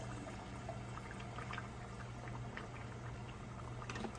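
Tomato juice pours in a steady, continuous liquid stream with a soft bubbling gurgle, close and fairly quiet, sustained throughout without a break.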